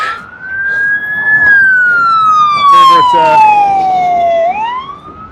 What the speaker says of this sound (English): the siren coming